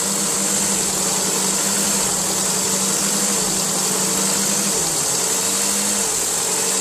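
A car engine runs steadily and loudly close by, its tone holding near idle with a slight dip rather than a sharp rev, heard alone with no talk.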